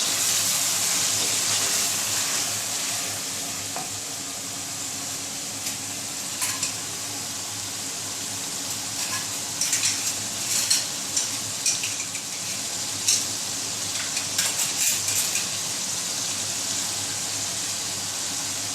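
Potatoes and capsicum frying in masala sizzle steadily in a pan, with loud, continuous hissing broken by scattered scraping clicks as they are stirred, close and without talking.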